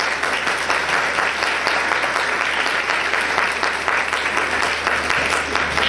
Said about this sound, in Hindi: अपन के लिए तालियां बजाएं